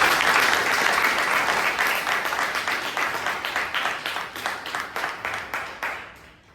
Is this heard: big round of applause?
yes